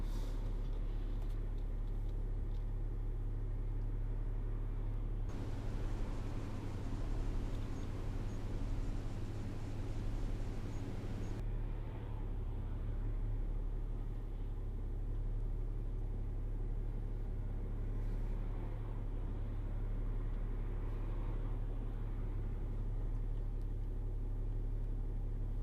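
Cabin of a 2010 Land Rover Discovery 4 with the 3.0 TD V6 diesel on the move, a constant low engine and road drone with a stretch of stronger tyre and wind rush midway, no talking.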